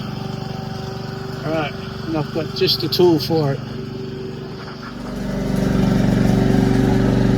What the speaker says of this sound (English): Sorry about the noise, my wife has decided to mow the lawn right now